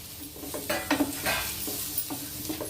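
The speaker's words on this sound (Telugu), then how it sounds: "బీట్రూట్ క్యారెట్ ఉంది కదా, ఇలాగా కోసుకొని ఇవి కొంచెం లైట్గా ఫ్రై చేద్దాం." Sliced beetroot and carrot fry lightly in a pan with a quiet, steady sizzle, broken by several soft scraping stirs of a utensil against the pan.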